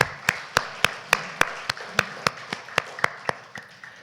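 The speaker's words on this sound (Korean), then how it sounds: "우리 박수로 축하합시다." Slow, evenly spaced claps, about fifteen sharp single hits in a row, fairly close and moderately loud in a quiet church hall during a Sunday service birthday celebration, with no talking.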